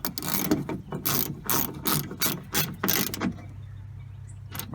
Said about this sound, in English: I'm gonna tighten all these bolts